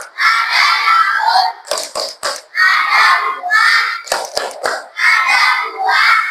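In a school classroom, a class of children does a clapping chant: group voices chanting with two short bursts of sharp, quick hand claps between the lines.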